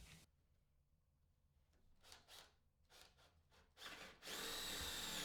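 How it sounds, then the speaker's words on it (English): A hand drill fitted with a Forstner bit bores into a block of scrap wood, the whir and grind building in short bursts before rising to a steady, loud cut at the end. "I get that chucked up in the drill and drill down to about the depth of the bit."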